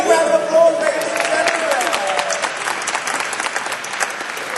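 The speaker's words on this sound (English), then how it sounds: "Big round of applause" Audience applause at a media agency CEOs' Jeopardy-style quiz, a loud, dense burst of many hands clapping that starts strong and tapers slightly, with voices mingling underneath.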